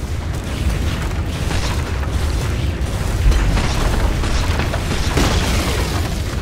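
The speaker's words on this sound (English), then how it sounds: "Radiant's middle tower is under attack." Dota 2 tower under attack in a match, a dense, steady wash of loud rumbling booms, impacts and battle noise that keeps going without a break.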